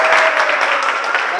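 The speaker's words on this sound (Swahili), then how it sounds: "Wapi makofi ya chama?" Audience at a church gathering breaks into brief, dense applause, a steady wash of clapping that fills the short moment.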